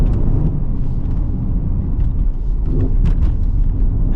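Mercedes ML63 AMG exhaust during downshifts, a loud close rumble with sharp crackles and pops scattered through it and bursts of blipping over a deep drone, no talking.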